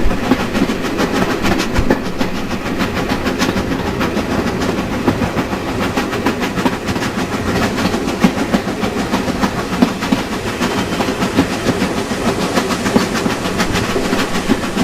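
On the West Somerset Railway, a heritage steam engine works up a gentle climb through the Somerset countryside, a sustained, even roar of exhaust and rolling carriage clatter carrying on without pause.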